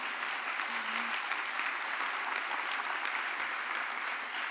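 Sustained audience applause fills a breakfast event celebrating women, a dense, steady wash of many hands clapping at even loudness throughout, with no voices rising above it.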